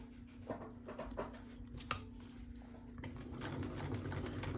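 A Bernina 930 Record sewing machine stitching without its back stitch working, a quiet steady whir of the motor with scattered clicks and small knocks, close by.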